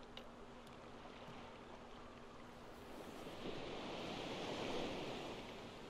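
Water and waves while boating in the Little Nightmares 2 video game: a steady wash of rushing water and surf, swelling louder partway through, with faint wind and occasional light knocks.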